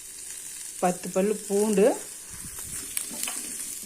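About 200 grams of chopped large onions fry in hot oil for a tomato chutney, giving a steady sizzling hiss that runs beneath a short stretch of speech and continues on its own afterward.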